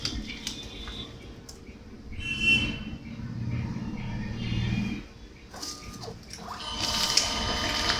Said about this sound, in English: So the printer is quite fast and it can rapidly print one print after the other without any hiccup and without any additional headaches.